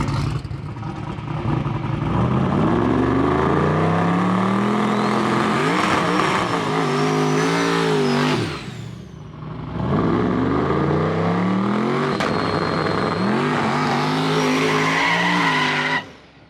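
A car does a burnout before a street race, tires spinning and squealing loudly over a roaring, revving engine. Two long sustained runs are broken by a short drop in the engine note, and the noise stops abruptly at the end.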